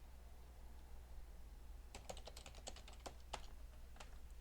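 Quiet, rapid clicking of a computer keyboard as a password is typed, a short burst of keystrokes over a low steady hum, starting about halfway through.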